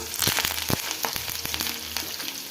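Green chillies and curry leaves frying in oil for pounded chicken pakoda, a close, continuous crackling sizzle with small pops and a few light clicks, no talking.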